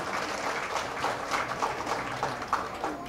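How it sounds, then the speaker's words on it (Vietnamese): Crowd applause at a Buddha's Birthday ceremony at Bát Nhã temple, a dense, even wash of many hands clapping, fairly close and sustained. "Xin quý vị một tràng pháo tay để tán dương công đức đạo tràng chùa Bát Nhã."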